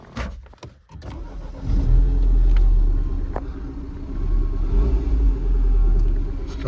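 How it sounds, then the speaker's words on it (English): A MINI Hatch 1.6 Cooper S Euro 5 petrol three-door starts with a short crank, then settles into a loud, close, steady idle rumble that swells slightly partway through. "Just start the car up."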